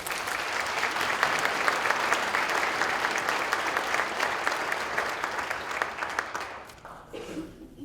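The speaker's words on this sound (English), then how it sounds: "And I think that's worthy of a round of applause." Sustained applause from an audience at a city's State of the City address, a dense, steady clapping wash that fills the room for about seven seconds before thinning out and fading near the end.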